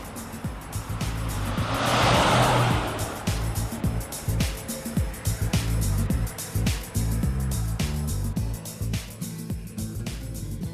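A car driven fast roars with a revving engine and rushing road noise, punctuated by sharp clicks and bursts, loud and close throughout with no voices.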